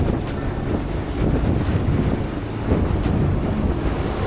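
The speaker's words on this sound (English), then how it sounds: "these are not the biggest waves we've ever seen, but they aren't like ocean waves" A sailboat pushes through steep, closely stacked short waves, with a steady roar of wind buffeting the microphone and water rushing and slapping against the hull, loud and continuous without speech.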